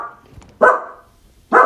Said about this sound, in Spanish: Igual ya estás escuchando a mi perrito ladrar.